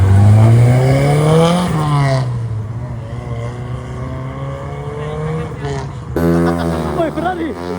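A Ferrari engine revs loudly nearby, its pitch sweeping up and falling back, then a sharp fresh rev climbs again near the end, with people talking over the car.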